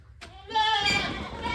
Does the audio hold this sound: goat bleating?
yes